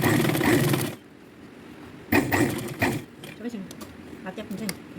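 A sewing machine stitches a fabric tiffin bag in two short loud bursts of rapid mechanical whirring, with quieter handling noise and faint clicks between them; no one speaks.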